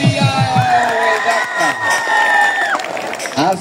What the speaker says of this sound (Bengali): তার জন্য জোরসে একটু তালিয়া।